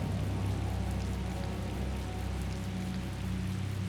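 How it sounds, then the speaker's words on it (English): Steady rain pours down in the video game Tales of Vesperia, a dense, even hiss of drops falling on surfaces around a harbor, continuous and close throughout with no voices. "Rain."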